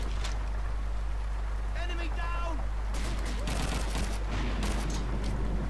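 Rapid gunfire in Call of Duty II crackles in dense bursts of sharp shots over a loud, constant wash of battlefield noise. Someone talks over parts of it.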